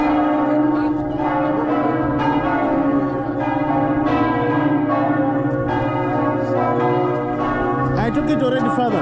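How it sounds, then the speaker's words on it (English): Church bells ring for mass at the Sacré-Cœur basilica, a dense, sustained peal of overlapping tolls with rich ringing overtones, loud and continuous throughout. "That's a bell for the mass."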